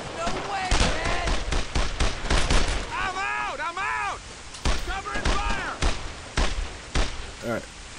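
Bursts of suppressing gunfire in the World War II shooter Brothers in Arms: Earned in Blood, sharp repeated shots and thuds clustered through the scene, with shouted voices and radio-like chatter mixed in.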